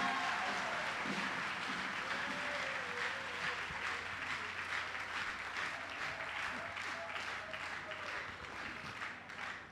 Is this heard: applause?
yes